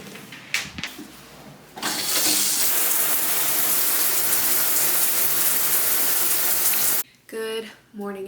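Water gushes steadily from a shower for several seconds, a loud broadband hiss that starts abruptly and cuts off, with brief knocks and movement before and after.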